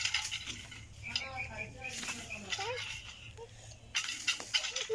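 A chicken clucks and squawks in short, repeated calls close by, mixed with excited talking voices and some clattering.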